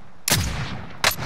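Two sharp sniper rifle shots in the Warzone video game, one at the start and another about three quarters of a second later, loud and close with a brief echoing tail.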